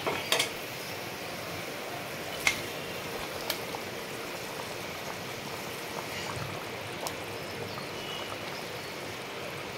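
Tengra fish slip into a pot of boiling curry with taro, bringing a steady, close hiss of bubbling liquid and a few light clinks of a utensil near the start.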